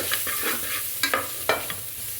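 Grated coconut frying in a spice tempering, soft sizzle under a series of sharp scraping stirs of a spoon against the pan, close and alone.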